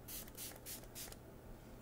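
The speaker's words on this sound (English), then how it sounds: "Okay, maybe I just have to spray a lot of it." Makeup setting spray misted from a pump bottle close up, four quick hissing bursts in a row followed by quiet.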